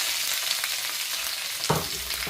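Sliced onions with green chillies and curry leaves fry in hot oil, giving a dense, continuous sizzle with a brief stirring clatter near the end; no voices.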